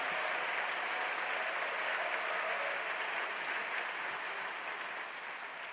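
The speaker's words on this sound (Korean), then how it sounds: "박수 치시면서 또 하나님께 영광 돌리면서 할렐루야 환영하겠습니다." A church congregation applauds a missionary in a large hall, a dense, sustained wash of clapping from many hands that holds steady throughout and eases off slightly at the end, heard from a distance with no talk over it.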